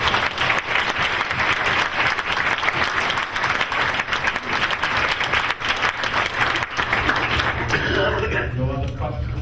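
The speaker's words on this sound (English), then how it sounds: "Can we please give them another round of applause?" Sustained applause from an audience at a university chancellor's visit, loud and dense clapping that thins toward the end as a voice begins speaking over it.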